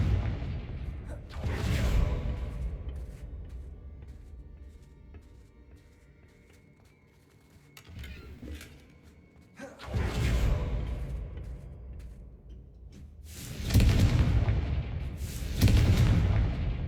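Confringo fire spell explosions in Hogwarts Legacy, several heavy booming blasts with whooshing bursts and rolling rumble, one early, another midway, and a pair of loud ones near the end, separated by quieter ambient lulls.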